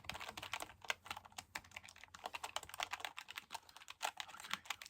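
Rapid, close clicking of keys on a computer keyboard, quiet and continuous with an irregular typing rhythm and no voices.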